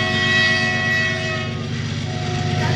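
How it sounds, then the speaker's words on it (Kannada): A passing train sounds its horn in a long, steady, loud blast over the rumble of its wagons, heard from a nearby house. "ನೋಡಿ ಟ್ರೈನ್"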